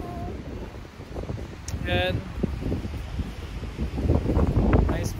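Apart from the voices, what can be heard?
strong wind in Banff in spring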